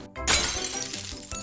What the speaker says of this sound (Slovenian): v zmedi se razbije šipa